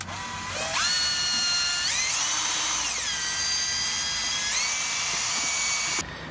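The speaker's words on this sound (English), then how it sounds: "So we'll give this a little buzz up with the combi drill." Combi drill stirring water-thinned paint, whining at a high pitch for about five seconds. Its speed steps up twice and eases down once before it stops, close and alone.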